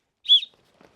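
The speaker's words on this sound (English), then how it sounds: "Sternum strap does come with a little whistle on it as well." A single short, thin, high-pitched toot from a small whistle on a backpack sternum strap, quiet and close, followed by faint rustling.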